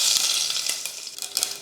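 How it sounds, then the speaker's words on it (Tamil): Mustard seeds and urad dal crackle and sizzle in hot oil for a rasam tempering, a bright close frying hiss with small popping bursts, no talking. "ரசம் தாளிக்கிறதுக்கு எண்ணெய் காஞ்சதுமே கடுகு உளுந்து போட்டுடலாம்."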